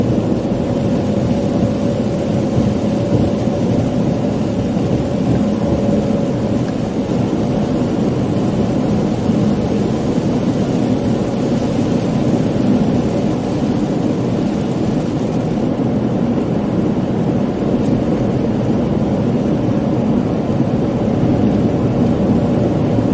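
Heavy rain pours steadily during a thunderstorm in North Dakota, a dense, loud, unbroken wash of sound with low rumbling of thunder rolling beneath it throughout.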